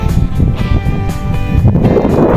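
Gusty wind sweeps across a dry-seeded rice field after a storm, a loud, steady rushing roar buffeting close to the microphone with fluttering bursts throughout.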